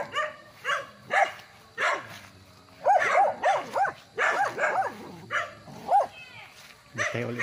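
A dog barks repeatedly on a rural farm lot in Magdalena, Laguna, a series of sharp close barks and yips in uneven bursts, some whiny, with short pauses between them.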